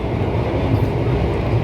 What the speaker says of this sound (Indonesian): Untuk guncangan sendiri di kereta ekonomi modifikasi ini ya nggak terlalu berisik ya teman-teman, sedang aja.